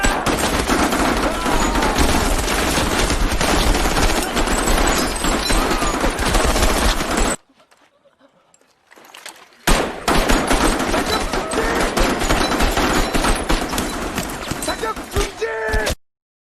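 Bursts of rapid gunfire in a war film crackle loudly and densely, broken by a brief silent gap, then erupting again in sustained volleys.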